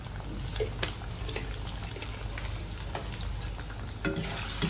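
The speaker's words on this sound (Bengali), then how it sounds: "একটু লাল লাল করে একটু ফ্রাই করতে হবে পনিরটাকে" Paneer cubes with turmeric frying in hot oil in a pan for a Bengali paneer chicken dish, a soft continuous sizzle with occasional stirring scrapes, close but fairly quiet.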